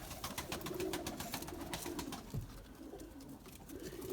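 Pigeons in a coop give soft, low, rolling coos against a busy background of fluttering and shuffling, faint and close.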